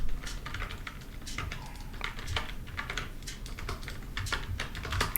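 Steady clatter of typing on a computer keyboard, dense irregular keystrokes close by and fairly quiet over a low background hum, with no talking.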